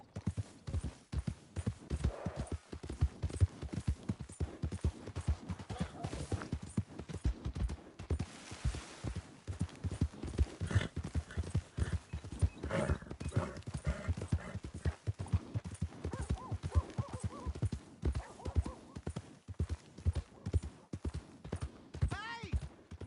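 Horse hooves clip-clop steadily in Red Dead Redemption 2, a close, rapid rhythmic clatter running throughout, with voices talking over it at times.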